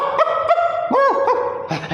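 A person's voice imitates angry Indian street dogs barking, giving several sharp, loud barks and a drawn-out growling yelp in quick succession, close up.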